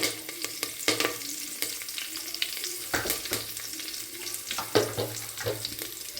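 Curry leaves and cumin sizzle in hot oil for sambar, a close crackling fry broken by scraping stirs and occasional sharper pops.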